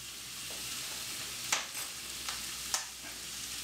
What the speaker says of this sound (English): Just a simple fry up now, really.